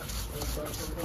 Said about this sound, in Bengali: সর্ষেকে শিলে বাটা হচ্ছে